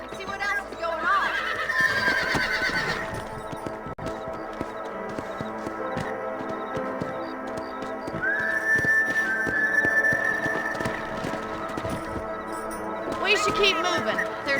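Horses in Red Dead Redemption whinny and neigh several times over clip-clopping hooves, with a voice talking throughout and a whistle-like tone in the middle.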